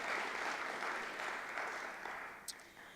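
Audience applause fills an awards ceremony hall, a steady dense wash of clapping that tapers slightly toward the end.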